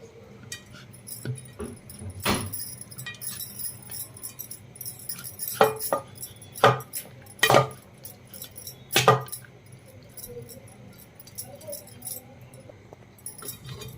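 Cooked rice being stirred together with Indian gooseberry (amla) gravy, with scattered clinks and scrapes of a spoon against a vessel and a few louder knocks, close and intermittent over quiet room noise.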